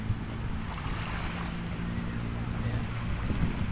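Sea waves at Manila Bay wash in a steady outdoor rumble, mixed with wind noise on the microphone, moderately loud and continuous, with no clear voices.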